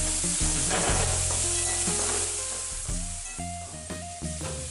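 Shallots stir-fried in a pan until golden for mutton chukka, a bright continuous sizzle with repeated clattering stirring strokes, close up and gradually easing in loudness, no talking.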